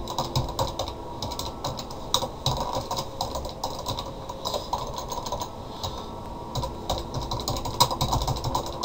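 Steady typing on a computer keyboard, dense quick clicks in uneven bursts running throughout at close range with no speech.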